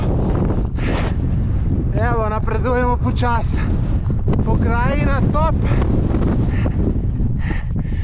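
Strong wind buffets the microphone on the Pico Viejo volcano on Tenerife, a loud continuous low roar throughout while someone talks briefly over it.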